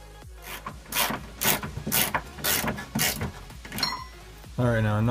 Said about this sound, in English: now it's just going to be a matter of putting the two brackets in place and then bolting down the bar.